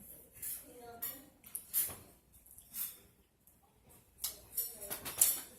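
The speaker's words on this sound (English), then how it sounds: "She's getting herself a spoon." A spoon clinks among dishes and cutlery in a home kitchen, light scattered clinks and scrapes at an irregular pace, fairly quiet.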